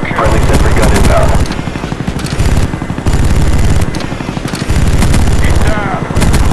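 A sentry gun in Call of Duty Black Ops fires loud, rapid automatic bursts separated by short gaps, with game noise mixed in.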